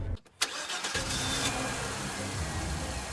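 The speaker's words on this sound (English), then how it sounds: "The engine roared to life, a sound that seemed almost defiant against the eerie silence of the night." A car engine cranks with a few sharp bursts, then catches and settles into a loud, continuous roaring idle that holds to the end.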